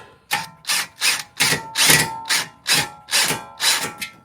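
Screws being driven by hand into wall anchors in a garage, with back pressure held on each screw: a steady run of about ten evenly spaced ratcheting clicks, close and fairly loud, with no talking.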